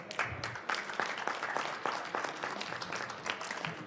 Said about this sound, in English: How about a round of applause from Lonnie?